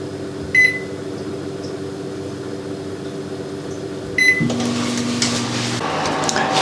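A countertop oven roasts Hong Kong-style honey-glazed char siu, humming steadily with a low electrical drone, punctuated by two short beeps and then a shift to a louder fan-like whir with faint clatter, no speech.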